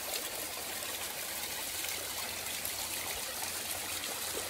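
A small stream of water trickles into a little pool beside the Pacific Crest Trail in Washington, a steady, even rushing babble that stays constant and fairly soft, with no voices.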